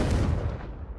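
Confringo explosive spell in Hogwarts Legacy, a single deep booming blast that rumbles and fades within about a second, with no voices.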